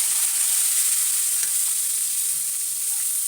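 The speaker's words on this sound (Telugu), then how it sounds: "అందులోకి కాస్తంత జీలకర్ర వేసుకొని ఈ ఉల్లిగడ్డ, పచ్చిమిర్చి వేసుకొని" Onions, green chillies and cumin seeds frying in hot oil in a pan for brinjal curry give a steady, bright, hissing sizzle, close and continuous, with no voices.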